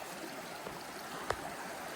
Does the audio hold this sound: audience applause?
no